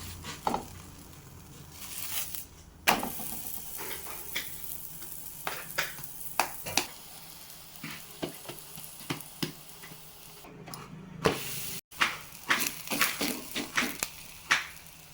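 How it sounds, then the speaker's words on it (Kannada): Moong seed parota cooking in a little oil on a tawa, a soft steady sizzle broken by frequent sharp pops and spatula taps, close by with no talking. "ಈ ತರ ತಬಾಕ ಹಾಕೊಂಡು ಮೇಲೆ ಕೆಳಗೆ ಸ್ವಲ್ಪ ಎಣ್ಣೆ ಹಾಕಿ ಬೇಯಿಸ್ಕೊಳ್ಳುತ್ತೆ"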